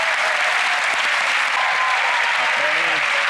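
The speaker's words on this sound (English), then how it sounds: "Give Kenny a round of applause for" Indoor studio audience gives a volunteer a sustained round of applause for a magic show, dense clapping filling the room throughout with faint voices underneath.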